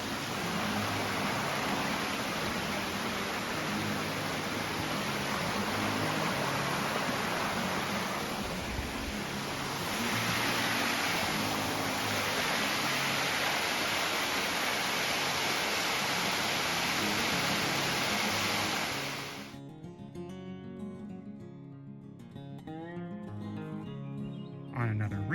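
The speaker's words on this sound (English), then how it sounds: "Crossing Jacobs Brook. I think I'm going to cross it again in a little bit." Jacobs Brook rushes steadily along a hiking trail, a broad, constant wash of flowing water for most of the stretch before it cuts off abruptly near the end, leaving only quieter background sound.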